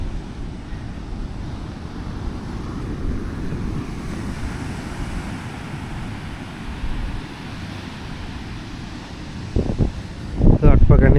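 Sea waves wash steadily on Antervedi beach where the Godavari meets the sea, a continuous surf roar with wind buffeting the microphone and brief voices near the end.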